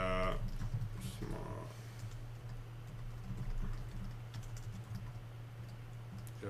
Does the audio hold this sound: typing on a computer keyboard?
yes